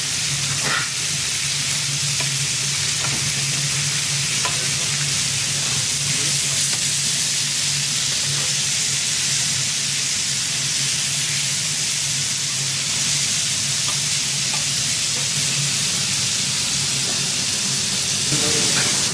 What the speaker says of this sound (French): Bien les saisir de chaque côté.